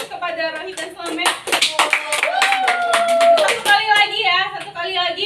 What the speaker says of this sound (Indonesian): Beri aplaus kepada Rohit dan Slamet.